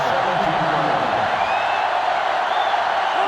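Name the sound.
stadium crowd cheering in NCAA Football 2005 video game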